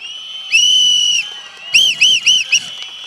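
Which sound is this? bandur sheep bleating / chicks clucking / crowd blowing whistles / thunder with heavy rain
crowd blowing whistles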